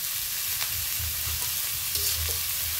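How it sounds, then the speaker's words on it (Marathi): Onion with salt sautéing in oil, a continuous close sizzle with faint stirring scrapes, no talking. "कांदा चांगला परतवायचा आणि लवकर परतण्यासाठी आपण थोडंसं आधी मीठ टाकून घेऊ"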